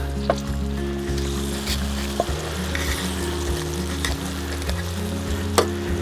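Crucian carp sizzle and fry loudly in a pan, a steady crackling hiss with a few clinks of a utensil and a low hum beneath.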